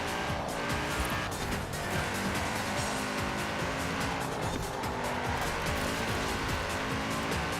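An Audi RS6 in Forza Horizon 4 drives hard and steady, its engine roaring continuously with tire squeal and skidding through the corners, loud and close throughout with no talk.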